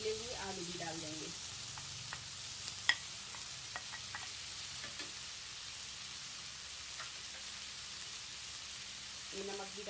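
Boiled potatoes and black chickpeas fry with crushed chilli in a pan, giving a faint, steady sizzle with a few soft stirring clinks and scrapes.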